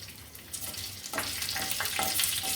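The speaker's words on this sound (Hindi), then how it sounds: "इसको हल्का सा फ्राई करूँ" A tadka of red chillies, cumin seeds and green chilli fries in hot oil in a pan for paneer do pyaza. A soft hiss swells into a louder, crackling sizzle partway through, close and with no voices.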